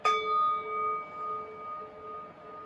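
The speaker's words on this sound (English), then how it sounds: "we take in our deep breaths when we hear the singing bell from the singing bowl" A singing bowl is struck once and rings with a clear metallic tone, its pure sustained hum slowly fading and pulsing gently in a quiet room.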